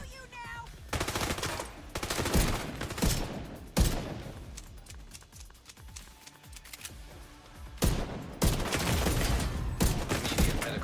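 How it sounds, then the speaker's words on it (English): Bursts of automatic gunfire in a video game shooter, loud rapid volleys separated by quieter gaps with scattered clicks and shots, no talking heard. "I'm gonna shoot you now."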